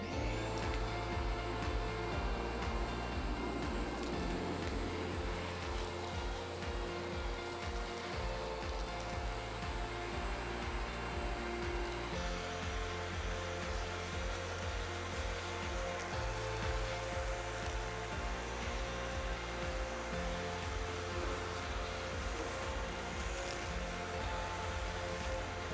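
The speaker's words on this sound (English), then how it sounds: "Now I'm just gonna vacuum it out." A vacuum cleans out a crack in a concrete floor, running as a loud continuous drone for about 26 seconds, the tone shifting slightly as the nozzle moves along the crack, with no talking.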